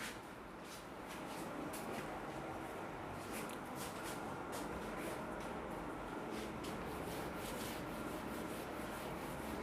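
Writing is rubbed off a classroom board with a steady, close, scratchy rubbing that has quick repeated strokes and no speech over it.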